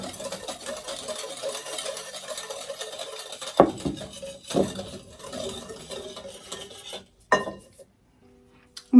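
A spoon stirs cobbler batter mix in a bowl for a peaches and cream cobbler, giving close scraping and clinking with a few sharp knocks against the bowl and short pauses, with no talk.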